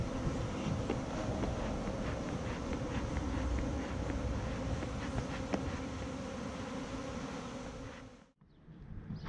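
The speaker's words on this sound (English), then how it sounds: "These bees are real nice. They're just buzzing around, finding where to go." A dense swarm of honeybees buzzes continuously and loudly all around, a thick droning hum that stays steady before briefly dropping away near the end.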